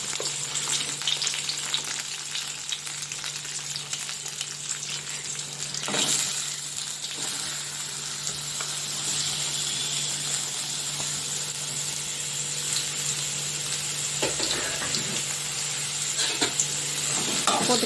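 Chopped onion and green chili hit hot oil in a pan already holding cinnamon bark and bay leaf for a spicy chicken gravy, giving a loud, steady close sizzle with a few brief stirring clatters.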